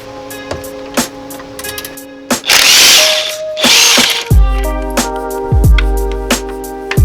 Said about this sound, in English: we're going to use ratchet on this one, just because it's tighter space and easier to do the ratchet